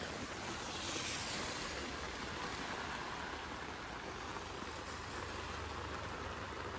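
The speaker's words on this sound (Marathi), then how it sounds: "पाऊस खूप आहे यार." Heavy rain falling steadily in a Konkan village, a dense, even wash of noise heard alone with no breaks, moderately faint and constant throughout.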